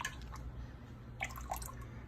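Milk for blue cheese is worked with a push-pull motion, giving soft, close liquid drips and gentle sloshes, with a few small splashes toward the end.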